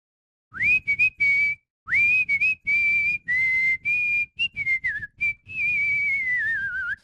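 A person whistles a lively tune in short bursts and sustained notes, close and clear, with brief pauses between phrases.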